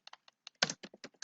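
Quick typing on a computer keyboard, a handful of sharp, close key taps in an irregular burst with a couple of heavier strokes, alone in a quiet room.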